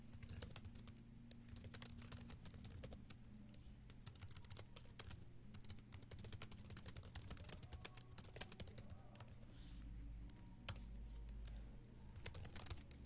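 Keystrokes on a computer keyboard clatter in a steady, continuous stream while text is entered into a cell in edit mode, close and fairly quiet, with no talking.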